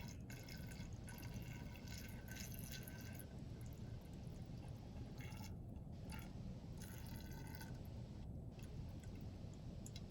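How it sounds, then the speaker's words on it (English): Water poured into a one-liter graduated cylinder holding sediment grains in a groundwater lab, a steady faint trickle and dribble running for about ten seconds with no talking. "we're going to go ahead and pour in the water until it fills up to the top of the grains"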